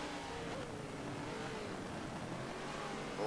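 A BMW race car engine roars in the Forza racing game, a dense, steady drone held throughout, with a rising rev surge right at the end.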